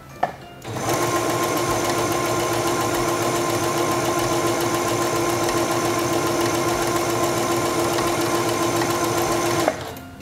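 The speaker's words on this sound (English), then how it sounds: "and begin sewing." A Singer Stylist 7258 sewing machine running a serpentine stitch, a fast, even mechanical whir with steady needle clatter that starts up, holds at constant speed for about nine seconds, then stops abruptly.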